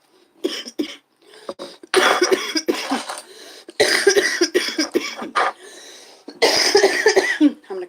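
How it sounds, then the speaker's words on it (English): Heavy, repeated coughing in several harsh bursts with a few throat-clearing sounds, loud and close, separated by short quiet gaps and with no speech. "I'm gonna cough my dick off for like 12 seconds straight"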